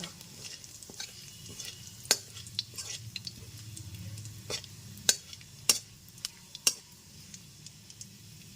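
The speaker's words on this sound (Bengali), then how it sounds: "একটা শুকনো লঙ্কা গ্যাসের ফ্লেমটা লোতে রেখে এইবার ফোড়নটা হালকা করে ভেজে নেব" Whole cumin seeds and a dried red chili fry gently in oil over a low gas flame, a soft close sizzle punctuated by sharp clinks and scrapes of a spoon stirring in the pan.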